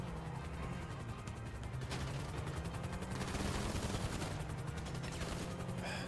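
Gunfire in the GTA Online video game during a five-star police chase in a Smart Car, with dense bursts of shots running continuously over steady engine drone and sharp cracks throughout.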